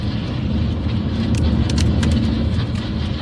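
A car that hit a motorbike and dragged it along keeps driving away, its steady road and engine noise continuous and loud throughout.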